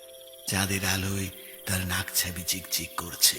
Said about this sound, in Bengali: ঝিঝি ডাকছে নিজেদের মতো।